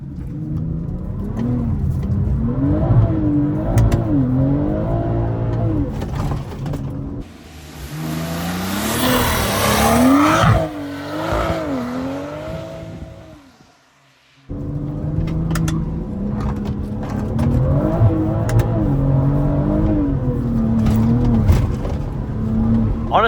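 BMW M340 engine revving hard during spirited driving, a loud, close, rising and falling engine note that swells through gear changes, drops away briefly near the middle, then returns at full strength.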